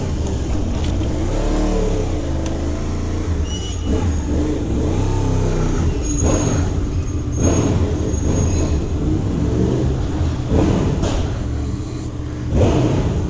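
A 2007 Honda VFR800 Interceptor 25th Anniversary motorcycle revs repeatedly, its engine rising and falling in pitch through several throttle blips over a steady close exhaust note, with no talk.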